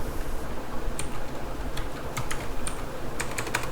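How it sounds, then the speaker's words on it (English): Rapid clicking of keys on a computer keyboard as a CSGO console command is typed on a practice server, irregular bursts of keystrokes close up over a low steady background hum. "Okay, now you need to type in infinite ammo command."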